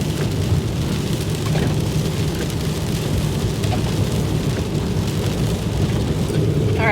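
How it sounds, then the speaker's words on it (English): Heavy rain pours steadily outdoors, likely drumming on a car while on the road, a dense broadband wash that stays loud and constant throughout with a low rumble underneath. "It is still pouring down rain."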